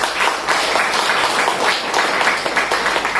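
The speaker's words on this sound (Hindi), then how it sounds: "जोरदार तालियां खुद के लिए" An audience at a yoga group session claps together in a continuous, fairly loud burst of applause that holds steady throughout, with no talking over it.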